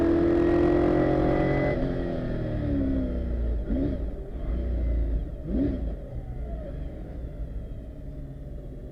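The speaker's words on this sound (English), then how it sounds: "He unleashes the V8's power up the finishing straight" A V8 McLaren racing car's powerful engine roars loudly as it accelerates hard up a hillclimb finishing straight at Shelsley Walsh, rising through gears with brief dips between upshifts, close and dominant throughout.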